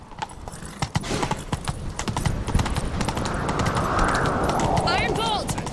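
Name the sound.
horse galloping in video game The Witcher 3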